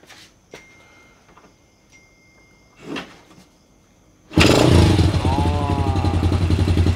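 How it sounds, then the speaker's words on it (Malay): Yamaha EX5 motorcycle fitted with a racing clutch and racing gears starts after a few faint clicks and clunks, then settles into a loud, steady idle with a close, rhythmic engine putter. "Kita start, kita dengar bunyi mesin dia."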